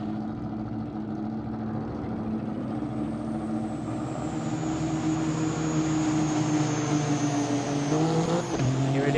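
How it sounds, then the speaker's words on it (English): GT3 race cars lap the Fuji circuit in Gran Turismo, a steady, dense engine drone that builds slightly louder and rises in pitch toward the end, with no talk over it. "Is the first cars out on the track"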